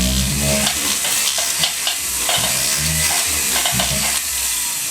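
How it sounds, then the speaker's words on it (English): Sandpaper rubs the inside of a white gold diamond ring during resizing, a steady, close scratching with repeated short strokes. "We're doing this with sandpaper"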